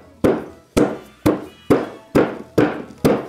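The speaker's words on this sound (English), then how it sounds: "I don't even have a reason to hammer it more right now." Seven sharp, evenly spaced hammer strikes on a hard resin casting, each ringing briefly before the next blow, loud and close.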